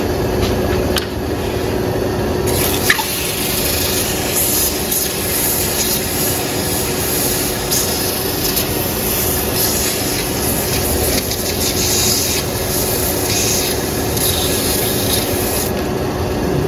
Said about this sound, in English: Okay, then a little bit of sanding.